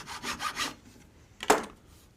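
Material being trimmed off during handmade box making, a few quick rasping cutting strokes followed by one sharper scrape, close and quiet with no talk.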